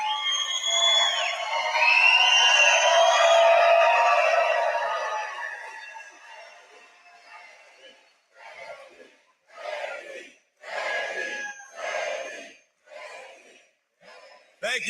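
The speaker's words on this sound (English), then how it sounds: "It's a hell of a crowd." A large political rally crowd in Holland, Michigan cheers and roars loudly for several seconds, then fades into scattered bursts of applause and shouts between pauses.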